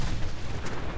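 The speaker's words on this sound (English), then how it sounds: "I love when they explode" A short dense explosion roar from Fallout 4, a continuous broadband rumble filling the moment without any distinct onset, with no speech.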